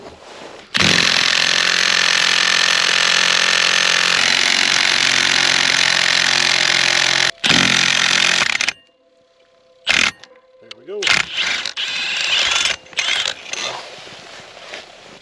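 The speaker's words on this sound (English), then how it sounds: "Throw the clutch puller in there." A loud, sustained whine of a power tool, likely an impact driver spinning a clutch puller, works on an Arctic Cat snowmobile primary clutch outdoors in a blizzard, followed by short bursts, a brief pause and metallic clanks.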